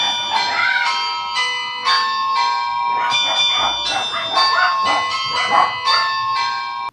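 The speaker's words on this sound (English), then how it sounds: "then the doorbell goes" Doorbell chimes ring repeatedly in clear tonal bursts, loud and close, while a dog barks alongside and a voice is faintly present.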